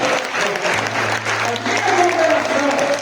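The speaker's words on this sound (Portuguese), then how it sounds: "Você pode aplaudir o Senhor?" A church congregation applauds the Lord after a sermon line, a dense steady wash of many hands clapping at close range for about three seconds, with a low hum and a faint voice or tone running underneath.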